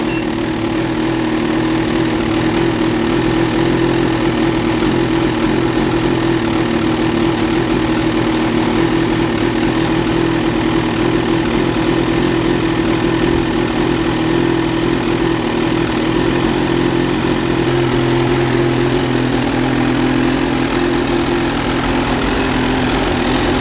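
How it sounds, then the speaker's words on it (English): A Ski-Doo Summit 850 E-Tech snowmobile idles with its stock muffler, a steady, loud two-stroke engine drone that holds close and even throughout with no talking. "give you guys a quick startup in its stock form so you guys could hear the 850 E-Tech in all its glory with a stock muffler"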